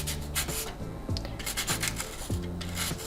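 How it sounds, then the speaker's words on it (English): A pastel pencil point rubbed back and forth on sandpaper makes close, quiet, rhythmic scratchy strokes, about a dozen in quick succession. "what you can also do is use your sandpaper"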